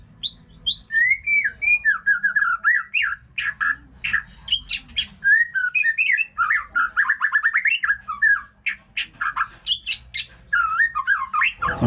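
A young magpie-robin's song plays back from an MP3 recording: a lively, continuous run of sharp chirps, squawks and whistled phrases, loud and close, with no voices.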